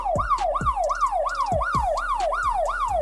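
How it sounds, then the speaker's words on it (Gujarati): A mobile phone's anti-theft alarm, set off when the phone is pulled from a pocket, wails as a loud, fast, repeating up-and-down siren, cycling steadily about eight times with no talking. "તમે પોકેટમાં રાખો છો તો કેવી રીતે આ સાયરન થશે મિત્રો તે તમે જોઈ શકો છો"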